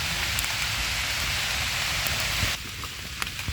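Steady rain falls outdoors, a dense continuous hiss with scattered drop patter, loud and unbroken, easing slightly near the end.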